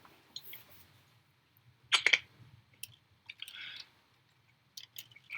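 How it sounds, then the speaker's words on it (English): Someone drinking water makes a few quiet sips and swallows with small wet clicks, separated by near silence, close and faint. "one moment, I'm drinking some water"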